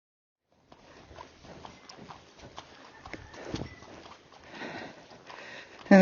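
Hooves of an Icelandic cross horse in saddle gait on the ground, a steady run of soft, close hoofbeats with light snorting and shuffling, fairly faint with no talk.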